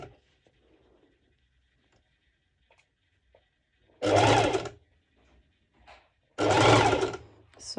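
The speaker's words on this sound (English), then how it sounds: "I'm doing the back stitching" Two short bursts of a sewing machine back stitching mesh shorts for pole dance wear, each about a second of rapid close whirring separated by near silence with faint clicks.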